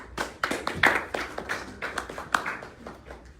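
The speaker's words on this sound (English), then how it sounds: "Please have a round of applause for them" A small audience claps in scattered, uneven bursts, quiet and brief, with no one speaking.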